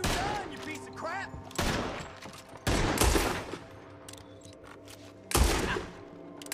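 Gunfire in the Western video game Red Dead Redemption 2: several loud broadband blasts at irregular intervals, with game sounds and some voice between the shots.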